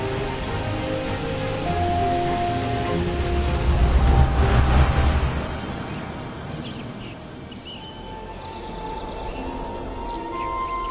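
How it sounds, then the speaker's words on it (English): Heavy red rain pours steadily over an outdoor gathering, a dense broadband hiss of falling drops that swells louder midway and then eases slightly, with no voices. "this is not the first time this red rain has fallen upon such an assembly of relations"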